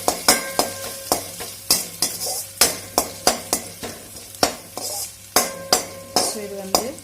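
Ginger sizzles in hot oil in a pan for potato bonda, under a steady run of loud, regular metal clinks and scrapes from stirring, close and rhythmic with brief hissing between strikes.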